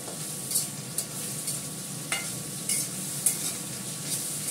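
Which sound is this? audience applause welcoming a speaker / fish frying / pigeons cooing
fish frying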